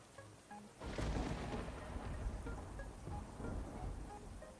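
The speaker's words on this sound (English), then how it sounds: "It's just a little thunder." A low rumble of thunder rolls in over steady rainfall that has been coming down all day, sustained and moderately distant, with the rain hiss continuing throughout.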